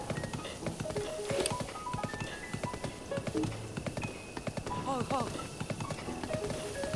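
Rhythmic horse hoofbeats clip-clopping at a steady pace in The Legend of Zelda: Breath of the Wild, under occasional talking and chirpy game sound effects.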